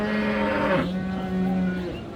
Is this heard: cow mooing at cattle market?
yes